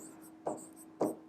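Chalk or marker writing on a board during a maths lesson on triangles, heard as three short scratchy strokes at a steady pace, close and moderately quiet.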